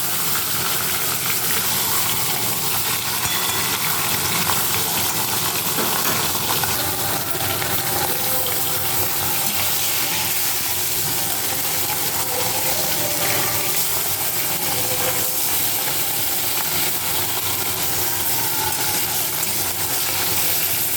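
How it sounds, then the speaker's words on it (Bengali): Katla fish pieces, including head and tail, fry steadily in hot oil with a continuous broadband sizzle that stays even and fairly loud throughout, no voices present. "বাকি মাছগুলো ভেজে নেব।"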